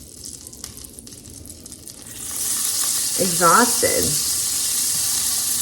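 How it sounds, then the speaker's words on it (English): Food sizzles and fries steadily in an electric skillet, a continuous loud hiss that swells midway, with a brief spoken word over it. "That and my electric skillet, which I'm cooking on now"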